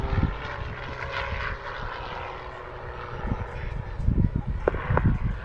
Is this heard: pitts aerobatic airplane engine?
yes